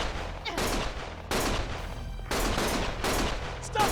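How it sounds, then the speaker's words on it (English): Loud bursts of automatic gunfire in the video game Lost Judgment, a few sustained volleys that cut off and start again in quick succession, close and dominant, with no talking. "Stop shooting!"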